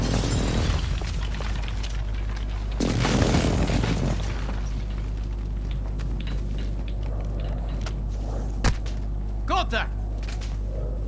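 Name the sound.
enemy precision airstrike explosions in a video game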